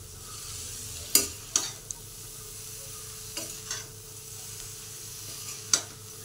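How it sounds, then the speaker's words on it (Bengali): Cabbage simmering in a wok gets stirred with a utensil, giving a few sharp scrapes and clinks spaced irregularly over a soft, steady bubbling sizzle. "আবার একটু নেড়ে দিচ্ছি।"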